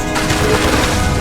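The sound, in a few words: Bombarda spell blast in video game Hogwarts Legacy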